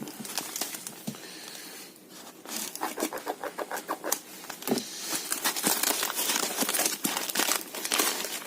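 Plastic and paper packaging from an AliExpress parcel is crinkled, torn and unwrapped close by, with bursts of crackling and rustling that grow busier and louder toward the end.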